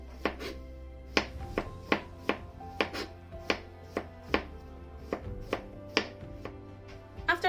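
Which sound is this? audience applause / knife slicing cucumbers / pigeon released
knife slicing cucumbers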